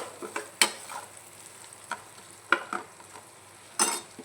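A spoon stirring onion-garlic masala with chili powder in a pan gives soft scraping and a few sharp clinks against the metal, a quiet, intermittent, close sound without talk.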